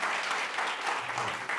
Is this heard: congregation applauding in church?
yes